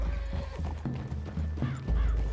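Horses in the Red Dead Redemption 2 video game make clip-clop hoofbeats and soft snorts and whinnies at close range in a wooded clearing, with steady footfalls and low ambient rumble. No talking.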